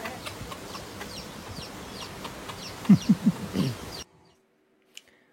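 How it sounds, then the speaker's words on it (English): Small backyard chickens clucking close by, a quick run of several sharp clucks over a scratchy outdoor background, then sudden near silence with one faint tick. "There's our little chickens."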